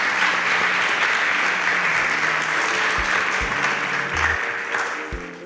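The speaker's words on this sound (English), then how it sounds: "Please a round of applause for Ayo Kunle." Studio audience applauds a contestant leaving a Nigerian TV competition show, steady broadband clapping that fills the room and then thins out, with a few low musical stings underneath.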